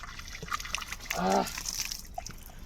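Cold water poured from a jug during a morning bath in a village gives one short splash midway, set against a quiet, faintly noisy background.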